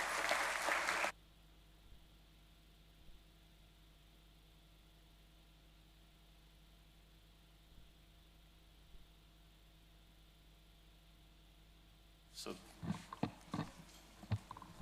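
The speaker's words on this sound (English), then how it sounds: "S. Satyanarayan, the Vice Chancellor of DSU, with a huge round of applause" An audience at a university first-year induction inaugural ceremony bursts into loud applause that stops abruptly after a second; after a long quiet hum, scattered clapping rises again near the end.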